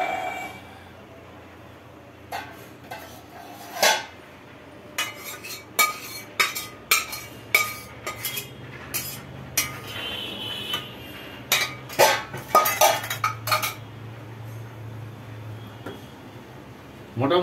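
Jackfruit and prawn curry poured into a pot and stirred, with repeated clinks and scrapes of a utensil against the metal pot over a low steady hum, the knocks coming in irregular bursts.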